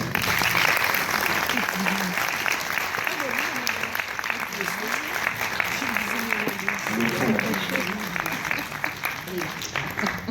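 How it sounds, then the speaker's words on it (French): A seated audience applauds at a public discussion event, steady moderate clapping that runs throughout, with voices talking over it in the room. "Merci de m'aider à applaudir Julia."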